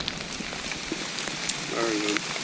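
Steady rain falls on a backpacking trail loop in the Catskill Mountains, a dense, even hiss with scattered drop patter, and a brief voice murmurs partway through.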